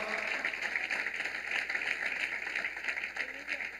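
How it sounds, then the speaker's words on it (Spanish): A church congregation applauds in a steady, moderately distant wash of clapping during a sermon, with a faint background hum. "Dele un aplauso al Señor con todo su corazón."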